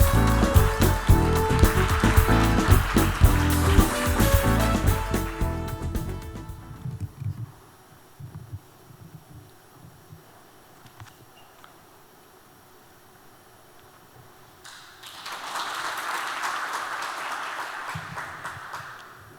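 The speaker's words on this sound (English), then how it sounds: "Please welcome our distinguished guest with a warm round of applause." Audience applause welcoming a guest speaker, a minister, at a Seoul town hall meeting for a global youth climate challenge: a loud, dense burst for about seven seconds that fades to near quiet, then a softer swell of room noise near the end.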